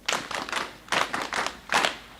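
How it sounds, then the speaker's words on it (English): Applause for a drill team at a defence forces inter-force drill competition ceremony, heard as three short bursts of hand clapping, each about half a second long, separated by brief pauses, close and moderately loud. "Commander, sir, I request we give a round of applause to the team."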